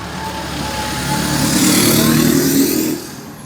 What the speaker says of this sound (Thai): รถก็เสียงดังเหลือเกินค่ะ